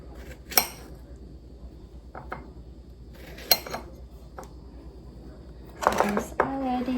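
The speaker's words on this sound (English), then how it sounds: "let's slice the strawberries first" A knife slices strawberries for a Filipino dinner with Spanish tapas at home in Los Angeles, with a few crisp knocks against the board, then a louder clattering burst of kitchen clinks near the end, and some talk in the background.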